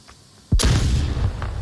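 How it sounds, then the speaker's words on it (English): A flashbang grenade goes off in the VR shooter Onward during a competitive match, a single sharp close bang that leaves a ringing, rumbling tail after a quiet lead-in. "Ooh, that flashbang did get him."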